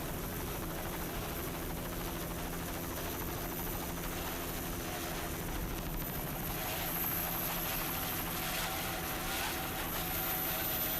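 Offshore racing powerboat, a 30-foot Spectre with twin 2.5 EFI engines, roars at a distance during a Superstock race off Sarasota, Florida, a steady broad engine drone with a wash of wind and water noise throughout.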